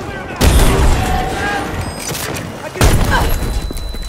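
A grenade blast in the Battlefield 2042 shooter, Hardcore mode: two loud broadband booms, one near the start and another midway, among gunfire and game noise, with players talking over it.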